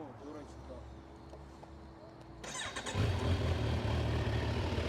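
A 2022 Kawasaki Z1000SX motorcycle with about 7000 km starts up nearby: a short cranking whir, then the engine catches and settles into a loud, steady idle, with people talking before it fires.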